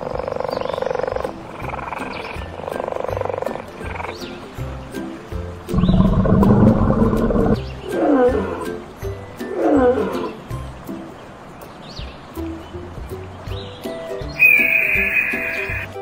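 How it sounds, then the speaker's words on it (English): A cheetah in a children's animal sound compilation gives a series of rough growls and snarls, loud and near, repeated in bursts between quieter gaps. "Cheetah."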